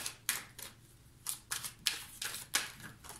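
Tarot cards drawn and laid down on a table, a series of about eight crisp flicks and slaps in uneven rhythm, close and quiet with no talking.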